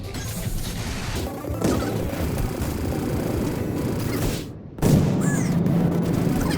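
Missile explosions in the space combat game SpaceBourne: a constant crackling din of blasts and impacts, broken by one sharp, loud burst partway through after a brief dip.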